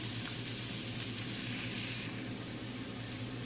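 Seafood stir-fried in a pan with ginger, garlic and onion, giving a steady, continuous sizzle and hiss close by, with faint scraping of stirring and no talk.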